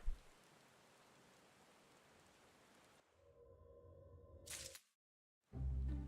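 Steady falling rain in a Final Fantasy XIV video game cutscene, an even hiss for about three seconds before quieter layered game sounds, a sharp burst, a moment of silence and a loud low rumble.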